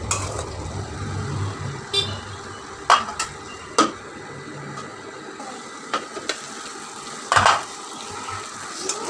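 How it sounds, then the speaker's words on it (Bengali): Already-boiled taro stolons are stirred and fried uncovered in a pan, with sporadic spatula scrapes and metal clanks over a low background sizzle. "এমনি নেড়ে চেড়ে ভেজে নেব"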